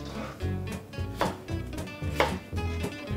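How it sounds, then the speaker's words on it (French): A kitchen knife chops potatoes into rough, even chunks on a cutting board, with a steady run of sharp, close knocks about every half second and no talking. "On les coupe grossièrement en morceaux, mais de taille régulière"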